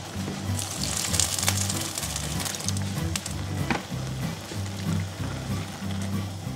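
Stock poured into risotto in a hot pan sizzles in a steady broadband hiss, with a low droning hum running underneath throughout and no voices.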